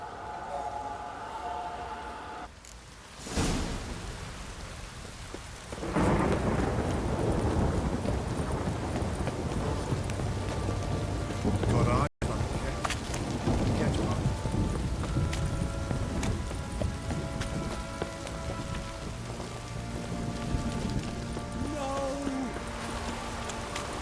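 Steady heavy rain pours throughout with a deep rumble of thunder in The Witcher 3: Wild Hunt, joined midway by a louder wash of downpour and faint voices underneath.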